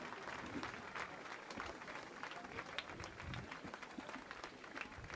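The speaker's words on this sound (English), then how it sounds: "A nice round of applause for that young man" Faint, distant applause from the stands at a high school varsity football game as an injured player is helped off the field, a steady wash of crowd noise.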